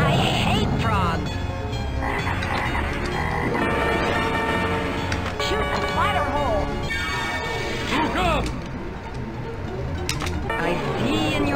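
A pinball video game plays frog croaks amid busy electronic effects, chimes and ball clatter, loud and continuous, while a person talks over it.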